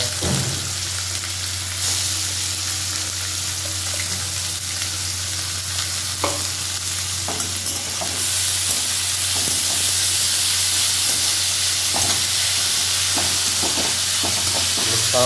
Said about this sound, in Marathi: कांदा जोपर्यंत ब्राऊन होत नाही तोपर्यंत तुम्हाला तो फ्राय करायचा।